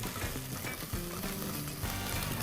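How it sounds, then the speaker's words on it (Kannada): Ginger-garlic paste frying in oil, about a quarter spoon of it, giving a steady close sizzle with light stirring scrapes throughout. No one speaks. "ಶುಂಠಿ ಬೆಳ್ಳುಳ್ಳಿಯ ಪೇಸ್ಟು ಒಂದು ಕಾಲು ಸ್ಪೂನ್ ಹಾಕ್ಕೊಂಡು ಅದನ್ನು ಕೂಡ ಎಣ್ಣೆಯಲ್ಲಿ ಚೆನ್ನಾಗಿ ಫ್ರೈ ಮಾಡ್ಕೊಳ್ಳಿ"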